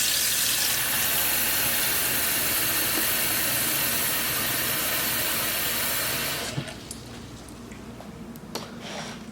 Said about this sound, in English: I like to also kind of run this under water right away so that it's not sticky